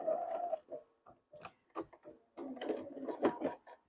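A home sewing machine stitches binding onto a quilt's edge in short, irregular bursts of mechanical whirring and ticking, with brief pauses between runs, close up and with no talking.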